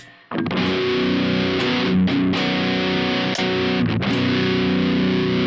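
Distorted Ibanez GIO 7-string electric guitar through a Fishman Fluence pickup on voice 2, loud sustained chords ringing with a few quick re-strums and brief mutes, alone without talk.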